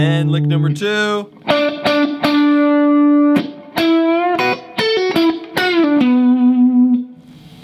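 Overdriven electric guitar lick from a song's second solo, loud and up close, with a string of picked and bent notes, short pauses between phrases, and a final sustained note with vibrato.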